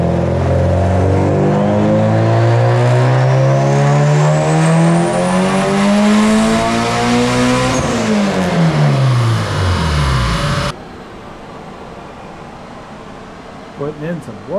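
A turbocharged Honda D16Y8 engine in a Vitara EK coupe screams through a dyno pull, its pitch climbing steadily for about ten seconds before the throttle chops and it drops to a lower, quieter running tone.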